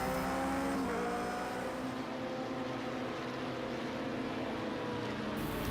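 Toyota TS050 LMP1 hybrid race car engine in the Project Cars 2 video game, a fairly faint, steady high-pitched drone with slight pitch shifts and no voices.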